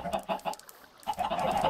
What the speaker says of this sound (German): Deine Hühner sind da hinten aber ziemlich fleißig.